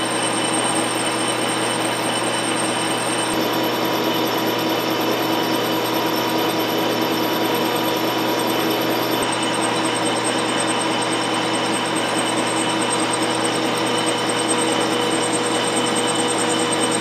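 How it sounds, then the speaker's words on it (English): A lathe runs continuously while a carbide threading bar cuts threads into a metal plate, giving a loud, even mechanical hum and whine with no pauses. "we'll get started putting some threads in this plate"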